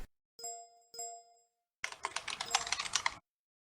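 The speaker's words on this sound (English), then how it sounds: "What is that typing?" Rapid typing clatters on a computer keyboard in a short burst of key taps, preceded by two bright chime-like dings during an online community meeting.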